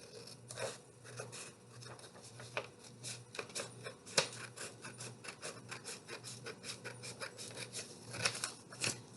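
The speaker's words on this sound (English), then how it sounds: "I'm going to take my scissors and cut along the crease to make two" Scissors cut paper along a folded crease in a paper craft, giving soft, repeated snipping and rubbing sounds at close range, quiet and alone.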